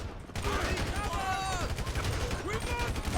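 Video game gunfire from a GTA 5 gang raid shootout, with dense, continuous bursts of shots and game sound effects filling the scene, mixed with voices and game audio throughout.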